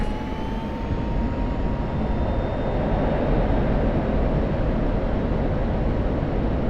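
An F-16 jet engine roaring at full power during a takeoff roll in the DCS World flight simulator, a loud steady broadband rumble with a thin rising whine, close and continuous with no voices.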